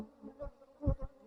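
Honeybees fly close around a long hive, their low buzzing swelling and fading in a few brief passes against a quiet background.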